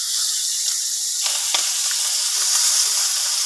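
Chopped onion hits hot cumin-tempered oil in a wok, giving a steady, close, loud sizzle that runs throughout, with a few brief stirring scrapes and no voices.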